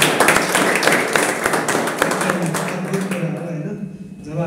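An audience at a Sunday school teacher training claps in a dense, fast patter of hand claps that thins out toward the end, with voices mixed in.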